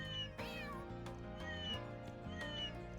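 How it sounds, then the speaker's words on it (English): Cats meowing in the video game Trails Beyond the Horizon, several rising meows layered over a steady, loud game music backing track. "They're meowing."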